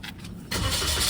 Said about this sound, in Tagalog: on natin yung makina.